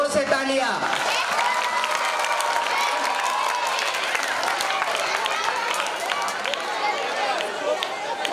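A school audience at an annual gathering claps steadily and loudly for several seconds, a dense, continuous round of applause with crowd noise and voices mixed in.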